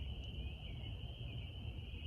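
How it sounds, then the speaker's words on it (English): Frogs call outdoors in a dense, steady chorus, a high continuous trill that holds evenly over low background rumble, moderately distant and quiet. "You can hear the frogs are really loud."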